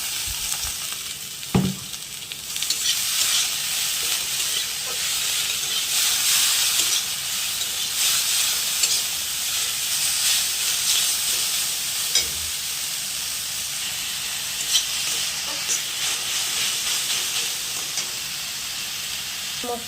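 Leaves hit hot oil and sizzle steadily in a pan, a loud, continuous close-up hiss with occasional stirring clatter, no talking.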